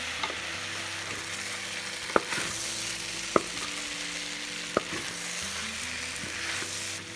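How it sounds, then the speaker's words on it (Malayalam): Gobi Manchurian gravy being stirred in a sizzling pan as sauces go in, with a steady fry hiss under repeated scraping strokes and three sharp clinks of the spoon against the pan. "എന്നിട്ട് നമുക്ക് നല്ലോണം ഒന്ന് മിക്സ് ചെയ്യണം."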